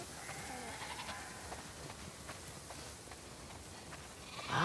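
Several sheep in the video game The Last of Us Part II bleat over a steady background hum, some calls near and others farther off, with a louder burst of noise at the very end.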